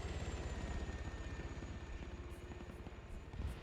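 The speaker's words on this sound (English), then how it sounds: "I love how both of those choppers are aggroed on a single dude." Helicopter rotor thump in the shooter game Insurgency, a fast, steady low chop from two choppers overhead, holding at an even level with faint sharp ticks near the end.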